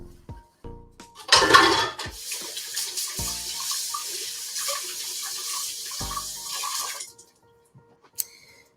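Tap water runs steadily into a kitchen sink for about six seconds, with clinks of dishes and utensils before and after the flow, close and fairly loud.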